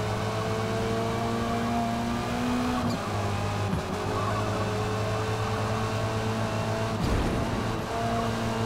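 Lynk & Co 03 TCR touring race car in the Forza Motorsport racing game, a sustained droning engine note with shifting pitch and brief gear-change dips, loud and continuous, no talk.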